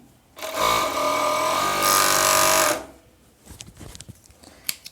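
A sewing machine stitching the shoulder seam of a women's long-sleeve pajama top, running in one steady loud burst for a couple of seconds, then stopping, followed by soft fabric handling and small clicks.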